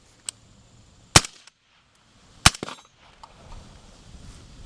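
A rifle with a Riflespeed adjustable gas control on setting 4 fires two loud, crisp shots about a second apart, each with a short echo, preceded by a faint click and followed by quiet background noise.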